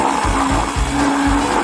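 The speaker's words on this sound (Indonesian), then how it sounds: "1 sendok es krim dalam blender dan sedikit mustard sudah cukup." A kitchen blender whirs loudly and steadily while mixing ice cream with mustard, its motor pulsing in a regular rhythm of about three surges with no talk.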